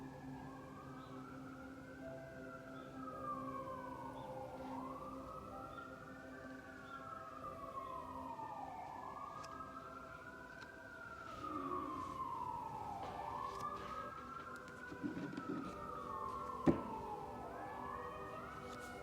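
Emergency vehicle siren wailing in a steady rising-and-falling cycle, moderately distant and gradually drawing nearer, with traffic noise beneath and no talking.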